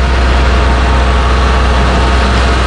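The V10 engine of a 2012 Elkhart Coach ECII wheelchair-accessible shuttle bus on a Ford E350 chassis idles with a steady, loud, low rumbling hum that holds constant and close, with no talking.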